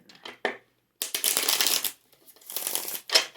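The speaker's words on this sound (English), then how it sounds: "Let's shuffle the cards and see what pops up for us" Cards being shuffled close by: a couple of quick flicks, then two long riffling bursts of papery rustle.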